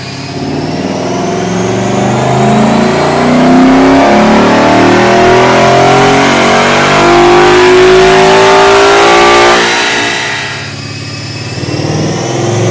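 A 2013 Mustang GT with a JLT cold air intake revs hard on a dyno, its loud engine note climbing steadily through a long pull before dropping off sharply near the end, with no talking.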